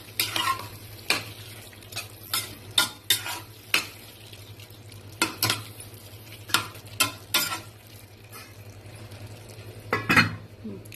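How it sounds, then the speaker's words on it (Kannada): A spoon stirs bitter gourd gojju as it fries in a pan over medium flame, giving repeated close scraping strokes at an uneven rhythm over a low, steady sizzle, with no voices. "ಯಾವಾಗವಾಗ ಕೈ ಆಡಿಸ್ತಾ ಇರಬೇಕು, ಇಲ್ಲಾಂದ್ರೆ ತಳ ಹತ್ತು ಬಿಡುತ್ತೆ."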